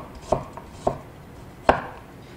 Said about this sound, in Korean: 당근 편 썰어서